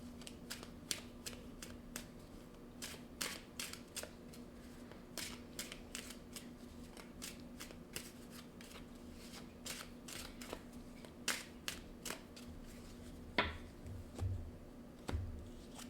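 Tarot cards are shuffled by hand, a steady run of crisp riffling snaps and soft card slaps repeating for the whole stretch, close and fairly quiet with no talking.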